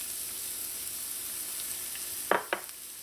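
Chopped onions fry in hot oil, a steady close sizzle throughout, with a couple of sharp clinks from stirring near the end.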